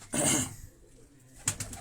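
Pigeon held in a handler's hand, one of the high-flying pigeons entered in a competition, giving a short soft burst of coos and wing rustle, a pause, then another brief flutter close by.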